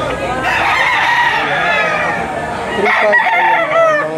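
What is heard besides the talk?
roosters crowing at a chicken auction market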